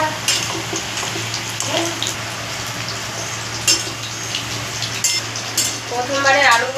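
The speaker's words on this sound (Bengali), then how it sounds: "আর বাকি আলুটা আমি এইভাবে ভেজে নেব।" Potatoes fry in a pan for aloo dum with a steady, moderately loud sizzle, broken by a few sharp clinks of a utensil against the pan.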